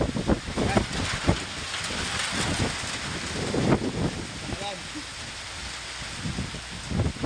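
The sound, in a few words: heavy rain and strong wind during storm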